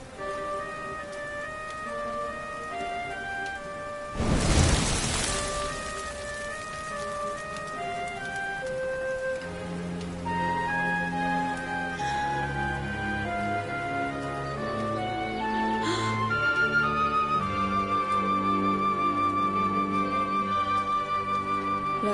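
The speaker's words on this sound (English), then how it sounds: "Looks like the rain's dying down." Rain falling in the Dragon Quest XI video game hisses steadily under layered game music, with a brief louder splash of rainfall partway through.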